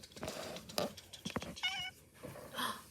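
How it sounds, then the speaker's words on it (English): A pet cat named Clementine meows several times indoors, short close vocal calls with a drawn-out whiny one in the middle, separated by brief pauses. "You meow a lot."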